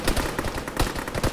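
Rapid gunfire in the jungle combat game Arma 3, a dense continuous burst of shots cracking over one another for the whole moment, loud and close with no talk over it.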